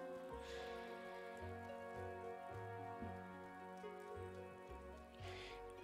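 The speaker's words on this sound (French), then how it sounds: "C'est pas parce qu'il pleut ici qu'il pleut là-bas." Steady rainfall patters in the Wylde Flowers video game, a soft, continuous hiss of drops under quiet game music, with no voices heard.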